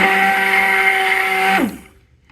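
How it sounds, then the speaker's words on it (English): A loud, steady electric mixer mixing soap whirs with a high motor whine, then winds down and cuts off near the end. "The mixer is loud."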